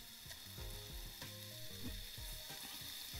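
Pieces of pepper steak sizzle steadily in a hot pan, with scattered scraping clicks from stirring over the continuous frying hiss.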